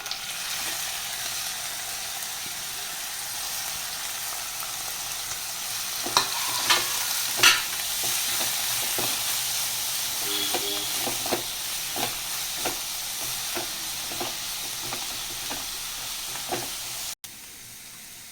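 Grated bottle gourd frying in a pan for sweet payasam, a steady close sizzle with scattered crackles and stirring clicks throughout, no talking.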